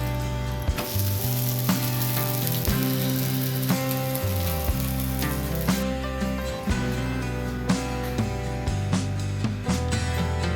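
Ghavane, a thin rice pancake, frying on a hot pan, a dense continuous crackling sizzle with a faint repeating low thump underneath, close and steady throughout.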